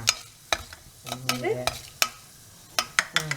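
Chana dal and cashews frying in a pan for poori potato masala, with a soft sizzle under sharp repeated stirring clatters from a spoon against the pan, close and fairly quiet.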